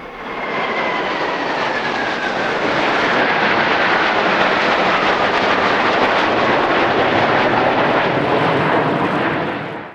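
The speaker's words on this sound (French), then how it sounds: "Hélicoptères, avions de chasse et ravitailleurs, c'est toute une flotte qui passe au-dessus de nos têtes" A military flypast of helicopters, fighter jets and tanker aircraft over a Moscow parade sends a loud, continuous roar of engines overhead that stays heavy and broadband for the full span, with no voices.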